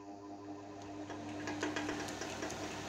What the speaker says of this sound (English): My 1970s Emco Unimat 3 lathe